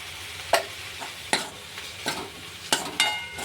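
Panch phoron spice tempering with turmeric and salt frying in a pan for chorchori, a soft sizzle broken by about five sharp stirring scrapes at uneven intervals.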